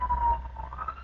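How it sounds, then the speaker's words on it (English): Wailing siren with a sliding pitch, heard faintly and somewhat muffled over a low rumble. "Oh my god, the siren"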